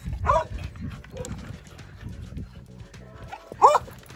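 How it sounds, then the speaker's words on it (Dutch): Small retired dogs give a few short barks and yips, one near the start and one louder near the end, with quieter shuffling and faint talk between them. "Dit zijn pensioenhondjes."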